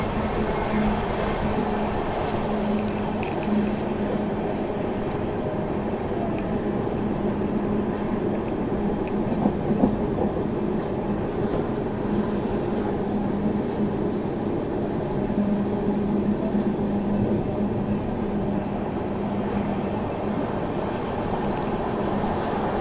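The Dakshin Superfast express rolls across the Narmada river bridge, a steady rumbling clatter of wheels on rails heard from inside the moving train, continuous and without talk.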